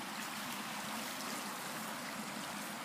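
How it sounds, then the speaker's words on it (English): A small man-maintained babbling brook on the River Cray gives a steady, even rush of flowing water, soft and continuous, with no one speaking. "We've got a little babbling brook."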